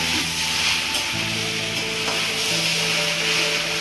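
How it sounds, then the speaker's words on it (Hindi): Okra and onion curry cooking slowly on a low flame, a steady close sizzle with light stirring and scraping in the pan, no voices. "धीमी आंच में पक रही है अपने टाइम से"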